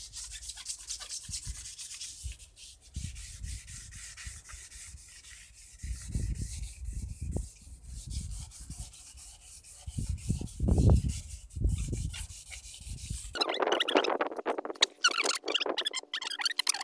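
Hand sanding filler on a car's sill with sandpaper, repeated scratchy rubbing strokes in uneven bursts, close by, turning brisker and louder toward the end.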